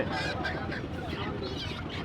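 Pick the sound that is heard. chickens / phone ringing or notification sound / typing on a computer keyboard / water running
chickens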